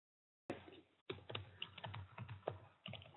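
Computer keyboard typing, close and quiet, a quick run of soft key clicks in short bursts with a few brief pauses.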